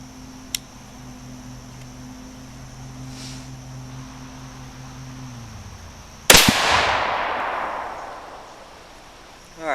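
.22 Creedmoor rifle firing 80-grain ELD-M bullets, heard as one sharp loud shot with a long decaying echo after a quiet stretch with a steady low hum and a faint click.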